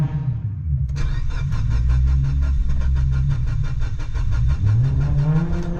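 A Mitsubishi Lancer Evo 6, a 280 kW car, cranks repeatedly without catching: a loud, steady, rapid starter churn with rhythmic pulsing runs for several seconds, close to the car, with no voices.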